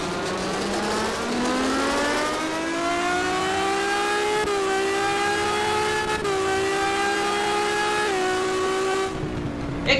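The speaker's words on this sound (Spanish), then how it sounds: "Así que ponemos primera marcha. Vamos a doblar el volante y vamos a salir de boxes." A Ford TC 2020 race car engine pulls out of the pits, revving up loudly in first gear and climbing steadily in pitch, easing briefly between surges and then cutting off near the end.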